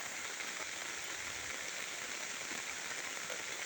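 Monsoon rain falling steadily on surfaces, a dense even patter and hiss that stays constant and moderately faint throughout, with no voices.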